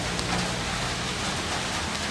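Rain falls in a steady, dense hiss with soft patter, continuous and fairly loud throughout the short stretch, no voices.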